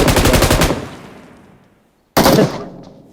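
Bursts of automatic gunfire in the mobile battle royale game BGMI: a loud rapid burst, a decaying tail into near silence, then a second abrupt burst fading out.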